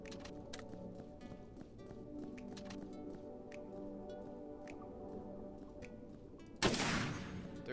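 Sniper and other gunshots in the sci-fi shooter Rogue Planet 2, an irregular scatter of sharp cracks over a steady ambient bed, followed by one louder, close, broadband burst near the end.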